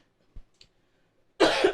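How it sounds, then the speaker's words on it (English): A single short, throaty cough comes close up in a quiet podcast room, preceded by a couple of faint small sounds. "I got the Itachi cough."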